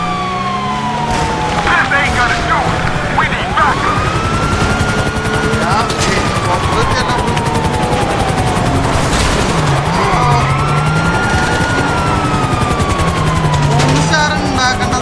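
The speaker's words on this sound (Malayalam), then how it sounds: "ഹെലികോപ്റ്റർ വണ്ടികൾ പോലീസ് എത്തിയിട്ടുണ്ട്." In GTA, a police helicopter's rotor whirs continuously under wailing sirens and bursts of gunfire during a police chase, loud and dense throughout.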